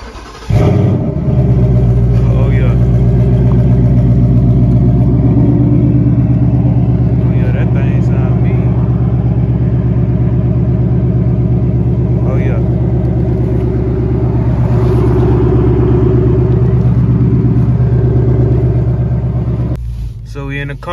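A 2024 Ford Mustang V8 with a Corsa Double X pipe exhaust fires up, a sharp start flare settling into a loud, deep, rumbling idle that holds steadily close by.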